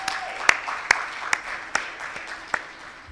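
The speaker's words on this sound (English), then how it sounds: "clap now. Don't be tired." Sparse, separate hand claps at an awards conference for women in environmental health and safety, about six sharp claps spaced roughly every half second over a faint crowd background.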